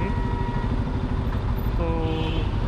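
A Bajaj Pulsar F250 BS6 motorcycle engine runs steadily in gear, a continuous mid-pitched hum with harmonic drone, close and fairly loud throughout, with a slight shift in tone toward the end.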